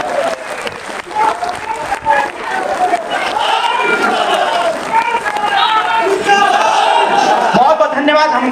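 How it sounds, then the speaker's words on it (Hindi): Loud, sustained applause fills a packed auditorium hall in Lucknow as a party's national executive meeting welcomes its president, with crowd noise and voices mixed in throughout. "जोरदार ताली बजा करके स्वागत कर दीजिए।"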